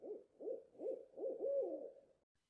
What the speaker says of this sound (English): Insert owl hooting noise here.